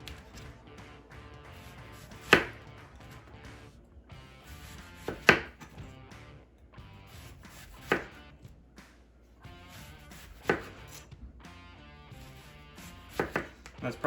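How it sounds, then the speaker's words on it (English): Knife slicing down through a whole onion on a cutting board, separate sharp chops landing every couple of seconds over faint background music, close and clear, no voices. "And then you see how this is still holding the whole onion together for me as I chop down it"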